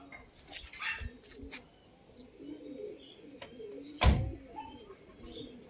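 Racing pigeons cooing and fluttering in a noisy loft, with a sharp flap of wings partway through and faint chirps scattered around.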